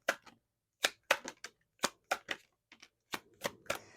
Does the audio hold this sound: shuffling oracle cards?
yes